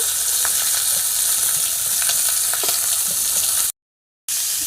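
Cut chicken frying in a pan with grated garlic, grated ginger and onion, a loud, close, continuous sizzle with scattered crackles and stirring scrapes, briefly dropping to silence near the end before resuming, with no talking.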